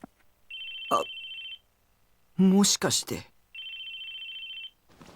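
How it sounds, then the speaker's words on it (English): Two long electronic phone rings from the video game Chaos;Head Noah, loud and steady in a silent room, separated by a brief burst of a spoken Japanese voice. "The place was silent, so the ringing sounded really loud."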